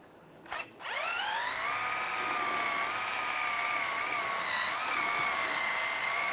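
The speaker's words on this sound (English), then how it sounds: "I'm just going to take a wire brush and just clean any of the rust areas just around the lip" A power-driven wire brush cleans rust from the lip of a 1998-2010 Volkswagen Beetle front wheel hub. After a brief knock, it spins up into a loud, steady, close high-pitched whine that holds with slight wavers.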